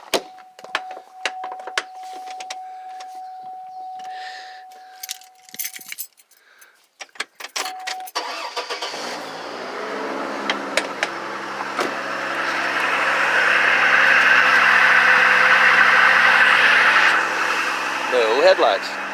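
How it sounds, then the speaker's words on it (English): Chevrolet Trailblazer / GMC Envoy SUV starting: keys jangle and clicks come first, then the engine turns over and settles into a steady idle that grows a little louder, with a voice talking over it. "So now when I go in and start the car"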